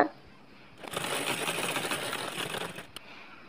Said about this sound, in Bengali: এখন কাপড়টাকে ঘুরিয়ে নিয়ে এটা উল্টো করে আমি উপর থেকে আরেকটি করে চাপ সেলাই দিয়ে নিব।